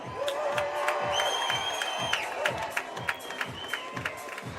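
A crowd at an outdoor climbing competition, the speed finals of a North American Cup in Vail, claps and cheers for the athletes, with dense applause, whoops and shouts rising and falling over several seconds.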